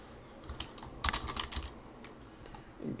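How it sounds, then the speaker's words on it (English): Computer keyboard typing, a quick cluster of soft close clicks that bunch up in the middle and then thin out to silence, with no talking. "I'm going to type in"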